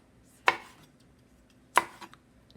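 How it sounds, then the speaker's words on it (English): Two crisp knife strokes chop cherry tomatoes on a board, spaced about a second apart, close and clear with a quiet kitchen background between cuts. "As you can see, I'm cutting them."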